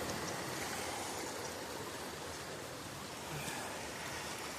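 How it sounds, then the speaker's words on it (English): Flowing stream water rushes steadily at a creek crossing on a wooded East Tennessee hiking trail, a continuous broadband wash of moderate loudness with no voices. "I was crossing the stream"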